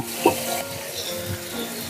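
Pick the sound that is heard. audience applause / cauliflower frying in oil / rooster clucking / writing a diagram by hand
cauliflower frying in oil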